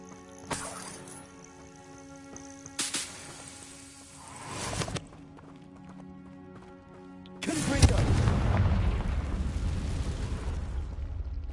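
Bombarda blasting spell explosions in Hogwarts Legacy, heavy booming bursts at intervals, the last one rolling into a sustained loud rumble, set against steady game music.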